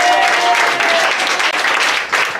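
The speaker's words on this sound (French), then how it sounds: "Et bien j'aimerais qu'on l'applaudisse aussi." A room of guests at a retirement party bursts into loud, dense applause, a close continuous wash of clapping filling the whole stretch without any speech.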